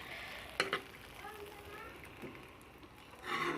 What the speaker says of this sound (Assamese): এনেদৰে লাৰি দিওঁ অকণমান।